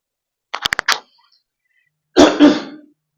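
A quick burst of several short coughs from an itchy throat during a sermon, then a pause and a rougher throat clearing, close and fairly loud with no talking.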